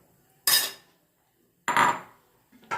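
A lid set down on a clay handi holding paneer soaked in milk: two sharp clinking knocks about a second apart, each ringing briefly and decaying, with a third softer contact at the end.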